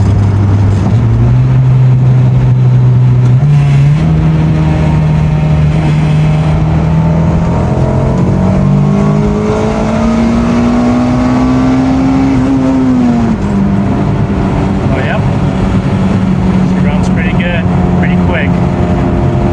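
A turbocharged Honda Integra GSR street car making around 280 to 300 wheel horsepower accelerates hard in third gear. The loud engine note climbs steadily in pitch for about twelve seconds, then drops back and settles into a lower drone.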